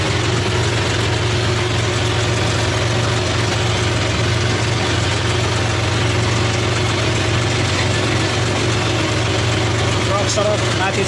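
A tractor engine runs at a steady idle, its low, even drone close by and unbroken, on a hill road where building materials for a large temple are hauled uphill.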